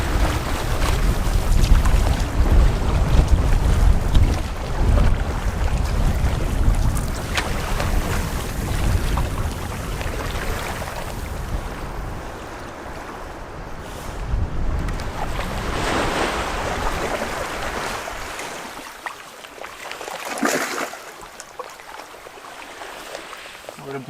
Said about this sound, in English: It's getting a little choppier here around this piece of land, so let's put the sail away for now.